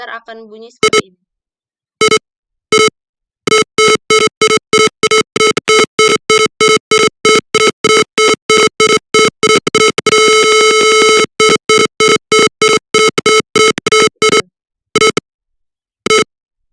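Car parking alarm buzzer in a Tinkercad Arduino simulation sounds a loud electronic tone in repeated short beeps, pulsing faster toward the middle, briefly merging into a near-continuous tone, then slowing again with longer gaps.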